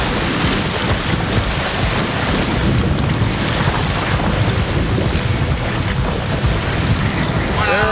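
Wind-driven wave water rushes and slaps steadily against a canoe out on wavy Hogan Lake in Algonquin, with heavy wind buffeting across the microphone throughout.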